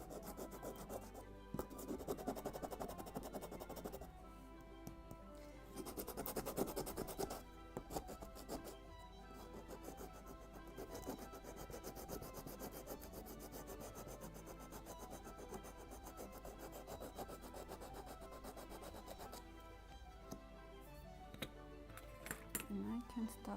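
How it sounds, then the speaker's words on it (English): Wooden bulkheads of a 1:76 Mayflower model ship kit, studded with protruding toothpicks, are sanded by hand in quiet, repeated rasping strokes, faint and close, with a few small clinks. "First I just want to sand it because of these toothpicks, which are sticking out, just to get more flat surface so I can use my scraper."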